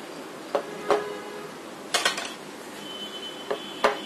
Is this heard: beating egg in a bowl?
yes